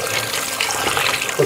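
A kitchen tap runs in a steady, close hiss of water while meat is rinsed under it, with a brief voice near the end.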